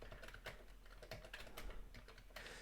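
Keys clack on a Commodore 64 keyboard that has only some keys working, in a quick, irregular run of close, crisp presses against a low steady hum.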